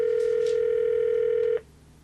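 A telephone call tone holds as one steady, loud electronic note for about a second and a half, then cuts off abruptly into a faint quiet line.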